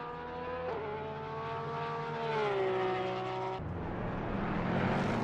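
A Porsche race car engine in a PC racing game at Monza holds a steady high whine that rises in pitch through a long gear, then cuts to a rougher, noisier tone as it shifts or passes.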